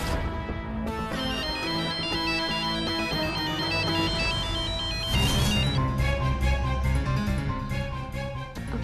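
A phone ringtone plays loud and continuous, a bright repeating melodic tune with no talking over it.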